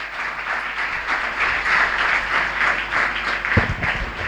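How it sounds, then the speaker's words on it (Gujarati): Audience at a Gita Jayanti talk given at a school in Bhanvad, clapping in steady, sustained applause from start to end, dense and continuous with no voices over it. "ફરી એકવાર જોરદાર તાળીઓથી વધાવીએ."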